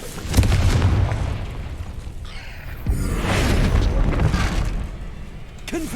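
Confringo explosion spell in a Harry Potter video game, heavy booming blasts with a long rumbling tail, a second burst swelling midway and crackling debris, loud and close.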